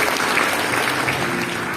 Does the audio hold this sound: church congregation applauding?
yes